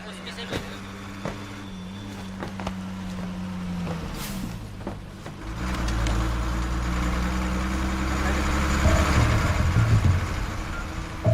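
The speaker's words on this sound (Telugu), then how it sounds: "Vizag next bus. ఇప్పుడు బస్ ఉంది" A bus bound for Vizag idles with a steady low engine rumble that grows heavier and louder about halfway through, while people talk nearby.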